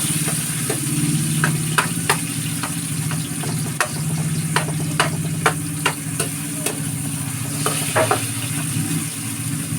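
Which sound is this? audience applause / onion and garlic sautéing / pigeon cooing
onion and garlic sautéing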